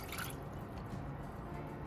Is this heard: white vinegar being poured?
yes